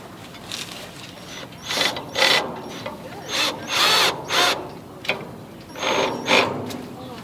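A power drill drives 5/8 inch screws into a bucket mount for a rabbit watering system, whirring in several short, loud bursts with brief gaps between them.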